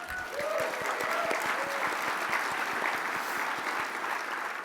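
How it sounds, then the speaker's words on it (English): Audience applause at a community welcome gathering, steady and full throughout, with a faint tonal sound briefly showing near the start. "let's take a moment to give one more applause to their contributions"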